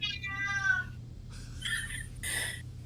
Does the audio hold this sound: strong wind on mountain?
no